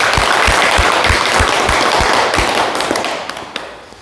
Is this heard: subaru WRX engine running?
no